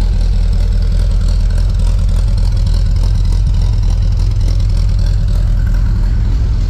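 A Volkswagen car engine idles steadily at close range, a constant low rumble with a slight uneven throb and no voices.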